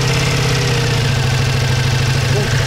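A Ducati Multistrada V4 S motorcycle engine idles close by with a steady, throbbing low rumble and a slightly uneven, lumpy pulse, and no one speaks.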